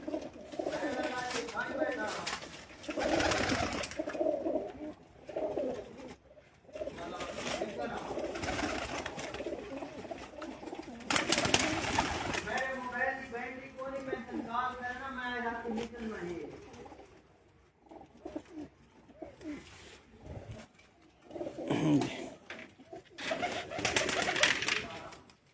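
Pigeons coo repeatedly on a rooftop loft, the soft warbling calls rising and falling near the listener amid wind and other birds, with people talking over much of it.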